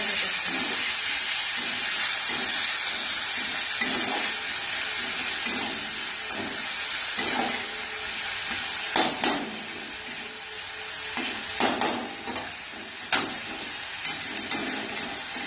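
Onion, tomato and chili fry for a bele fish curry with a constant hiss of sizzling oil, broken by occasional scraping taps of a spoon stirring the pan, and no voices.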